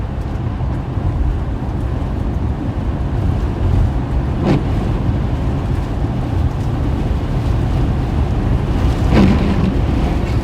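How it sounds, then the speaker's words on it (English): Heavy wind roars in an Iowa-Nebraska blizzard with blowing snow and whiteout conditions. It is a loud, steady, broad rumble with a couple of brief sharper gust bursts, and no talking. "Heavy snow, heavy wind."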